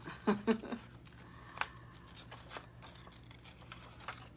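Scissors snip through paper for a junk journal craft, a few crisp close cuts near the start followed by softer scattered snips and paper rustles, with no talking.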